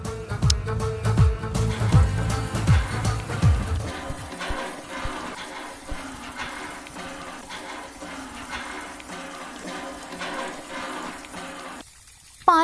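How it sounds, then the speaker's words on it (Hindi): Water pours and splashes steadily as a filled water pot overflows, loud and close at first, then settling into a softer continuous trickle before cutting off near the end. "पानी भर गया है, नीचे गिर रहा है"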